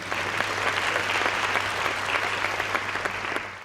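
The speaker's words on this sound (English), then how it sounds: "give these guys a round of applause again" An audience at a morning economic update gives panelists a sustained round of applause, dense clapping throughout with a low hum underneath.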